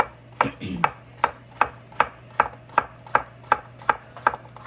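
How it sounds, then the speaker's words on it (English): A knife slices a cucumber on a cutting board in about a dozen steady, evenly spaced chops, crisp and close with a low hum underneath. "I have a cucumber. I'm gonna cut down the center."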